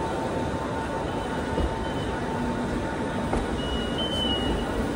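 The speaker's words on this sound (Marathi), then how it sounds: "आले डोंबिवली ट्रेन" A train arriving at Dombivli station rumbles steadily with a faint high squeal of wheels near the end, no voices over the continuous rolling noise.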